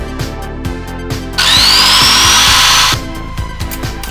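A power tool cuts metal pieces for a workbench frame, a loud steady grinding whine lasting about a second and a half, rising abruptly out of intermittent workshop knocks and clatter and then stopping.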